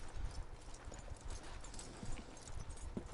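Horse hooves clip-clop steadily on the ground, a close and fairly quiet run of even, rhythmic strikes without voices.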